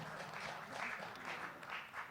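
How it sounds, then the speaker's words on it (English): A panel-discussion audience claps in a brief, fairly quiet burst of dense applause heard from a distance. "round of applause"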